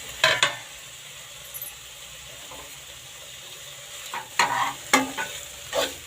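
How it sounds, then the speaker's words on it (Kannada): Ridge gourd palya cooking over medium heat in a pan, with a quiet background sizzle broken by scraping stirs: a couple at the start and a busier cluster near the end. "5 ನಿಮಿಷ ಮೀಡಿಯಮ್ ಉರಿಯಲ್ಲೇ ಇದು ಎರೆ ಸೌತೆಕಾಯಿ ಬೇಯಬೇಕು, ಪಲ್ಯ ಆಗಬೇಕು."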